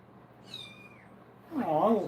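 A cat gives one close, wavering meow toward the end, after a brief thin high tone and otherwise quiet surroundings.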